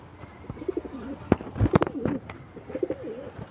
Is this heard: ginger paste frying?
no